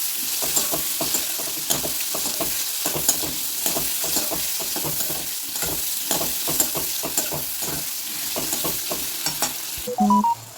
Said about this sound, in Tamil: அது அப்படியே நல்லா நெய்யில் நல்லா வதக்கிக்குவோம்.